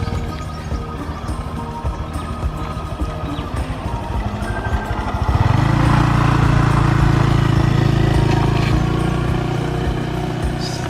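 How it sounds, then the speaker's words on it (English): A motorbike rides slowly along a quiet concrete road in Krabi with a novice rider, its engine a steady low rumble that grows louder and fuller about halfway through as the throttle opens, continuing close and unbroken. "Letting Claire have a go at riding the bike while we're on a quiet concrete road"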